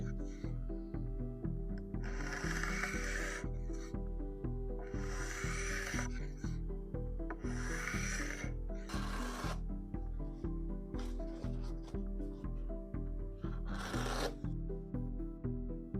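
A steel knife blade is sharpened on a whetstone in steady, repeated rasping strokes, close and distinct, with a regular rubbing rhythm over a constant low hum and no speech.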